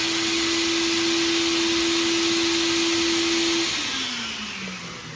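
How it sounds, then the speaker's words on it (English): A dust extraction vacuum running with a sanding tool, both on high speed, drones loudly and steadily with a high whine alongside it, then the motor cuts off and the pitch slides down as it spins down. "It's on high speed on the vacuum, and the tool itself is on high speed"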